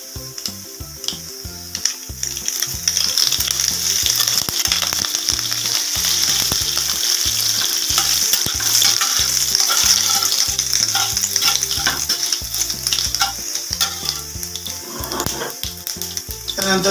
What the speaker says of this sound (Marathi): त्यानंतर टाकूया आपला कढीपत्ता